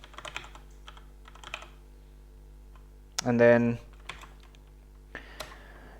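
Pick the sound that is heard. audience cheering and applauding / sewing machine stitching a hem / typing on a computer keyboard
typing on a computer keyboard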